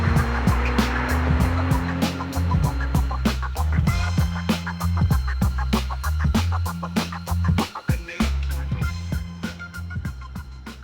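A Honda Accord V6 with a manual gearbox drives on the road, its engine droning low and steady from inside the cabin alongside a regular ticking beat and varying road noise.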